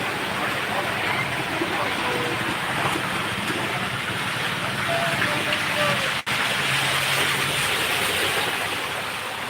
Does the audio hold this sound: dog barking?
no